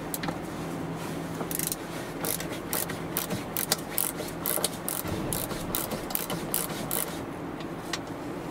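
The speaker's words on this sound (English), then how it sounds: "We'll need to use 10 millimeter socket to remove this bolt." Ratchet with a 10 mm socket removing a bolt in a Volvo XC40, a steady run of close, quick clicking strokes.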